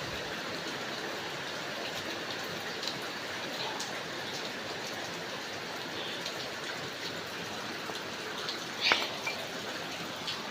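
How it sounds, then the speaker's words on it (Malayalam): Heavy rain falls as a constant, even, broadband hiss, fairly faint and steady throughout, with a few brief louder spatters and no talking. "നല്ല മഴയാണ്."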